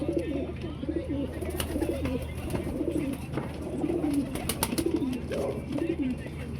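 Pigeons, a female with a male, coo in soft, repeated rolling calls close by, while a person talks quietly in the background.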